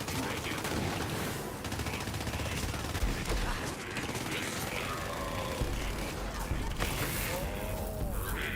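Dense, rapid gunfire from a low-level gun in the Borderlands 3 video game, a loud, sustained stream of shots with impacts and mechanical clatter filling the whole stretch, mixed with game effects.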